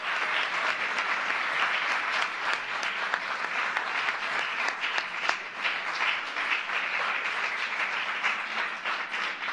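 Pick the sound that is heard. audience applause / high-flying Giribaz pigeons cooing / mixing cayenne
audience applause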